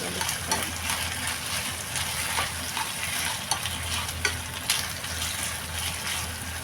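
Soy-marinated meat sautéing in a pan in a home kitchen, with a spatula stirring and scraping through the sizzle in irregular knocks, moderately close, no talk.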